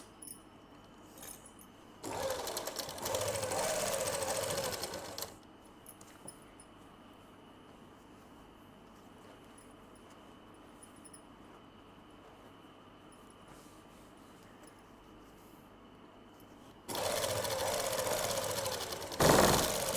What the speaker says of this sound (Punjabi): ਇੱਥੇ ਝੋਲੀ ਵਾਲੀ ਸੀਨ ਲਗਾਉਣੀ ਆਪਾਂ ਨੇ